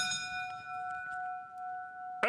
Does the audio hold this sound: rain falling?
no